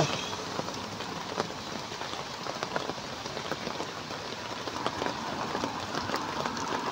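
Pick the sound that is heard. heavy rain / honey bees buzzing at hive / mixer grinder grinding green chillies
heavy rain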